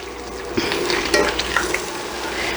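Beef browns in a hot pan, a soft continuous sizzle broken by a few scraping stirs, close and fairly quiet.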